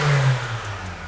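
A supercharged Alfa Romeo V6 with a Civic Type R pulley revs once, a loud, close, low engine note that drops and settles into a rumble over about a second.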